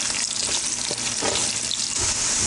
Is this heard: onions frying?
yes